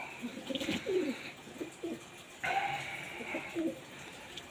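Pet pigeons cooing while bathing in hot weather, soft repeated throaty coos close by in two bursts, with faint splashing and background hiss.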